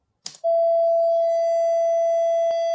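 A steady 669 Hz sine tone from computer speakers driven by an audio interface starts after a brief rustle and holds loud and unbroken, with a faint click near the end.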